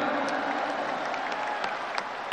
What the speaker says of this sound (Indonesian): Tepuk tangan sekali untuk Bapak Anies Baswedan.